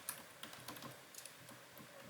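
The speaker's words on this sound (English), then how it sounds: "Let me type that in here." Quiet, rapid typing on a computer keyboard, light uneven clicks in short flurries with brief pauses, no voices over it.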